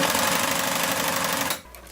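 A household sewing machine runs a wide zigzag stitch, a fast steady mechanical whirr that is loud and close, stopping abruptly near the end.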